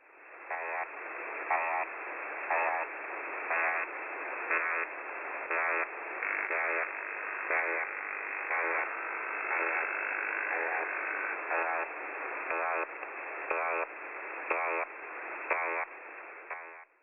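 A Russian military shortwave radio signal on 6930 kHz comes through as a narrowband, radio-filtered hum under static, pulsing in steady, evenly spaced on-off beats for the whole stretch.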